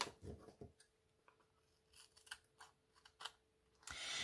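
Scissors snip through strips of decorative washi tape while making vintage craft tags, a few short quiet cuts spread out with pauses between them, close and alone.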